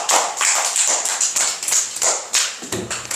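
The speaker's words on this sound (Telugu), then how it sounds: "Claps for Sravya." Schoolchildren in a classroom clap together for a pupil, a brisk, loud run of rhythmic claps lasting a few seconds with no talk.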